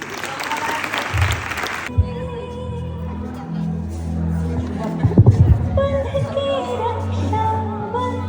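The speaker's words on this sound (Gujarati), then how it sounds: "તમે તાળી પાડો" An audience claps at a school Raksha Bandhan drama in a short burst at the start, then the clapping gives way to tonal music with some voices.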